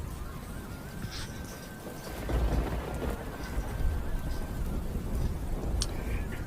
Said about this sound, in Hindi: बहुत ज़ोरों से बारिश हो रही थी।